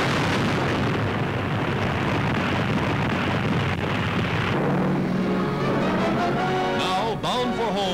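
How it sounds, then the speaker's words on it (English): Loud, sustained rumbling bomb blasts roll on continuously as bombs hit a freighter in 1943 New Guinea wartime footage, a dense roar of explosions that later gives way to aircraft engine drone and a brief voice. "bombs are on their mark, and the freighter is crippled by the explosions"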